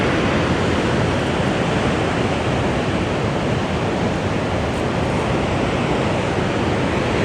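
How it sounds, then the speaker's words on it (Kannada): A waterfall in Karnataka pours down with great force in a loud, steady, unbroken roar that fills the whole clip, close by, with no voices. "ಭಾಳ ಅಂದ್ರೆ ಭಾಳ ಫೋರ್ಸಿಂದ ಬೀಳಾತೈತಿ ನೋಡ್ರಿ ನೀರು"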